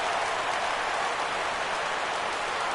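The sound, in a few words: stadium crowd cheering in video game MLB The Show 16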